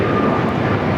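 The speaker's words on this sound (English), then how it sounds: "I think they're going to allow Korean Air, I'm sorry, Asiana, Flight 201, A380 Super to now start taxiing again" Asiana Airlines Airbus A380 taxiing at Los Angeles International Airport, a steady, loud, continuous jet engine roar that holds even throughout the short stretch.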